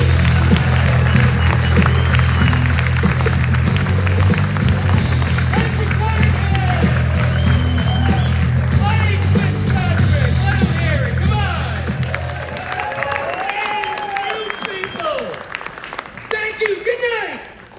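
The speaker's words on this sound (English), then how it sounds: "Get the applause going now for the very funny Joseph Anthony" A comedy club audience at the Borgata applauds and cheers a comedian in a full, sustained burst of clapping. Low music plays under it at first and fades out midway, and voices and chatter run through the later part.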